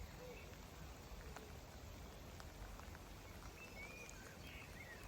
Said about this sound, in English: This rain is really frustrating.